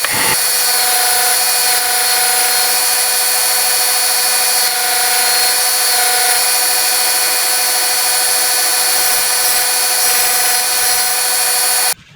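Continuous abrasive scraping of sandpaper on a hair-cutting scissor blade with a steady high-pitched whine, unbroken for about twelve seconds before stopping abruptly.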